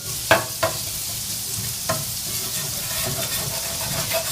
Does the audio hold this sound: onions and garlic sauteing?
yes